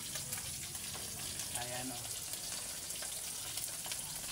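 Fish frying in a pan at home, a steady dense sizzle and crackle of hot oil running throughout, with a brief word spoken over it.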